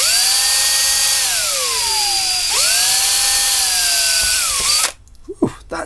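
A bent drill bit bores into a workpiece during a headphone jack install on an Odroid Go, the drill whining loudly with pitch dropping and rising twice before cutting off near the end, followed by faint handling noises.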